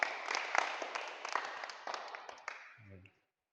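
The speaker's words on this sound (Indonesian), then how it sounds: "Tepuk tangan untuk Mas Isbul." Applause from an audience for a participant who has just finished a timed task: a dense burst of close clapping that thins and stops after about three seconds.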